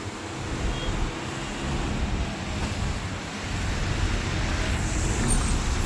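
Road traffic with loaded trucks labouring up a slope, a continuous low rumble of heavy engines and passing vehicles that swells gradually louder, with a faint brief high tone partway through.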